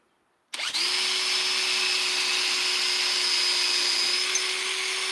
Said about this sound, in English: trick is holding this straight when you drill